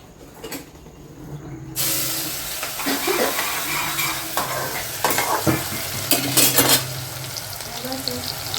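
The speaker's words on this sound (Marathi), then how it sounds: "आता हे पूर्ण तेलामध्ये परतवून घेते" Vegetables sautéed in hot oil, a loud hissing sizzle that jumps in after a quiet start, with repeated stirring scrapes and clanks of a utensil on the pan.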